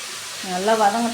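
Food sautés in hot oil in a pan, a brief, soft sizzle heard under a speaking voice.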